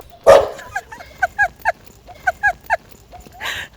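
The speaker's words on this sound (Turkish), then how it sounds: "Allah'ım köpekler geliyor kaçın." Several dogs bark at night in a loose, clustered series of sharp yaps and barks at moderate distance, with a sudden loud burst at the start and a whimpering whine near the end.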